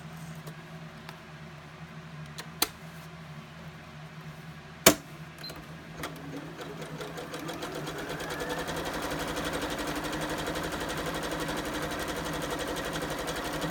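A sewing machine runs a test stitch-out while thread tension is being adjusted, starting with a few sharp clicks and then settling into a steady, close, continuous mechanical whir that holds to the end.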